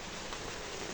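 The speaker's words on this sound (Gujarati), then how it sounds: "મોટું જબરદસ્ત વરસાદ આવ્યો છે." Heavy rain falls in a dense, even hiss that holds steady without a break, sounding fairly close.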